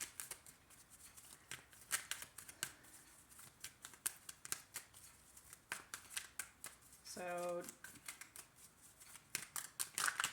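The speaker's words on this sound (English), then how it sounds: "I've got to shuffle." Rapid, crisp riffling and slapping of tarot cards being shuffled, repeated in quick bursts, with a brief spoken word partway through.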